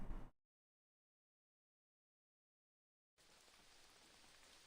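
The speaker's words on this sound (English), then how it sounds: "Start to rain." Steady rain falls in a visual novel video game, a soft hissing wash that starts abruptly after silence and continues evenly to the end.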